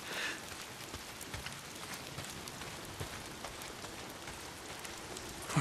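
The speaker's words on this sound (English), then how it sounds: "Why is it always raining?" Steady rain in the video game Days Gone patters down on surfaces, a dense continuous hiss with scattered droplet ticks, with no voices.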